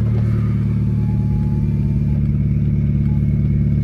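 Idling VW GTI with catalyst delete downpipe and exhaust clamp disconnected, waiting at a red light; a loud, steady, raspy low rumble with continuous clattering pulses, close and alone.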